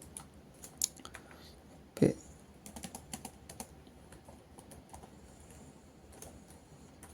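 C code being typed on a computer keyboard, scattered close key clicks in short irregular bursts with one louder thump, quiet room otherwise.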